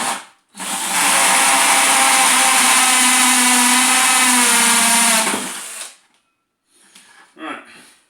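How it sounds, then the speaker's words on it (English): A power hammer drill whose hammer action constantly engages, boring into a plastic 20-litre bucket: a loud, harsh, steady grinding rattle for about five seconds, then it stops, followed by faint handling noises. "The horrible noise is because this is a ratchet hammer drill too"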